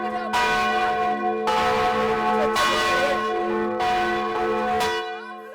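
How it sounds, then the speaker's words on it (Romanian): Large church bells at the Fortress of Alba Iulia ring repeatedly in a slow rhythm, each strike loud and resonant, the tones overlapping and humming between strokes. "De ce bat clopotele Georgică?"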